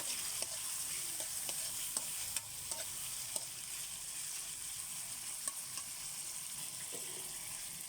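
Pork and pork fat fry in a pan for sautéed shrimp paste, a soft steady sizzle with regular light spatula clicks as the pieces are stirred, faint and close, no speech.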